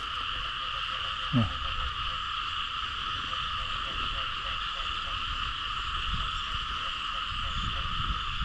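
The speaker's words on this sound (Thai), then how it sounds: "กบร้องขอบบอนี่" Frogs croak in a dense, steady chorus at the edge of a pond on a rainy night, with a faint voice briefly under the constant calling.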